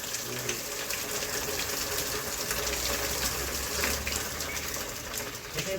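A steady, forceful spray of water hisses continuously against the walls of a house, close and fairly loud, with a low mechanical hum underneath.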